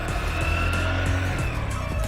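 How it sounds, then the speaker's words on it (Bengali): A motorbike on a village road in Bangladesh revs and turns around, a loud close engine drone with uneven throttle pulses throughout, no speech. "চলেন গাড়িটাকে ঘুরায়া"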